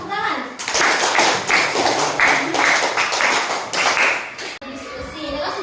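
A classroom group claps together in a rapid, fairly loud burst of applause lasting several seconds, with a few voices mixed in.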